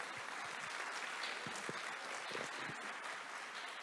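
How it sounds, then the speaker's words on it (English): Audience at a port innovation and sustainability conference session clapping in a steady, even wash of applause that carries on throughout, heard from some distance in the hall. "give them a big round of applause one more time"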